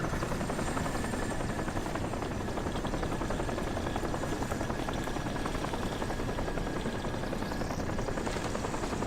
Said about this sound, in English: Ah, there's a chopper.